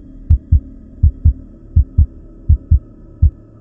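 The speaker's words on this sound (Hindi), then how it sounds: "उसका दिल इतनी जोरों से धड़क रहा था कि मानो सीना फाड़कर दिल बाहर आ जाएगा।" A fast pounding heartbeat effect from a horror story thumps in close, deep paired beats, lub-dub, repeating steadily about five times with a faint hum underneath and no voices.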